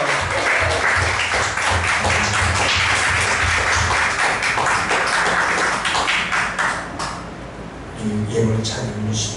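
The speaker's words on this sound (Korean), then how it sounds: "깨닫게 하신 하나님께 영광의 박수를" Church congregation applauding together during a Sunday worship service, a dense sustained wash of hand claps lasting several seconds before fading, with quieter voices and room sounds as it dies down.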